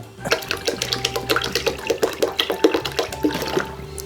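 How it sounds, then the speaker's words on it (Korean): About three liters of water is poured onto leftover malt residue in a container, giving a continuous close splashing gush with bubbly gurgles, loud and alone. "이 엿기름 남은 찌꺼기에 물 3리터를 벗어 담가 놓을 거예요"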